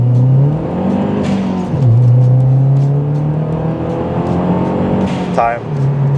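Mazdaspeed 3 accelerating hard in second gear from 30 to 70, heard from inside as a loud, steady engine drone that climbs in pitch, dips briefly, then pulls again, with a short high whine near the end.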